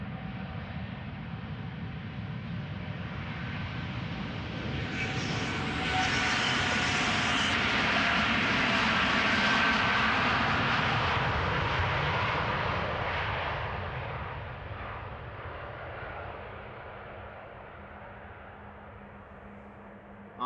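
A KLM Boeing 787-10 Dreamliner departing Amsterdam Schiphol, its engines whining and roaring as it swells to a loud peak mid-way, then fades into a low rumble.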